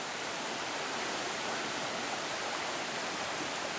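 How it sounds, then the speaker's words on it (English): A stream in the outback, with water flowing in a steady, dense broadband rush, continuous and even throughout, close by and with no voices. "You're actually going up a stream to get here."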